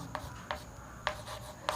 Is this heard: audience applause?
no